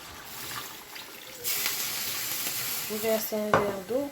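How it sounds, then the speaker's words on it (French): A glass of water splashes into a pot of simmering oxtail, cutting in as a sudden louder rushing hiss over the ongoing sizzle, while a voice speaks toward the end. "Je verse un verre d'eau."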